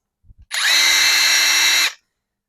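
A Metabo HPT WR18DHQ4 cordless impact wrench spins freely for just over a second, a loud, high, steady whine that starts and stops sharply, with a few soft clicks before it.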